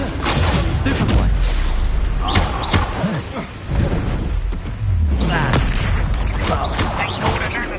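Stupefy spell cast during combat in the Hogwarts Legacy video game, heard among a dense run of loud slams, booming impacts and whooshes that crowd the whole stretch with only a brief lull midway.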